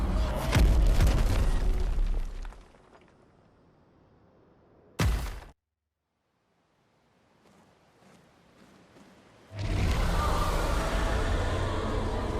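A deep boom from the Axon in Clair Obscur: Expedition 33, one sharp burst standing out between rumbling stretches and near silence, followed by a loud noisy wash at the end.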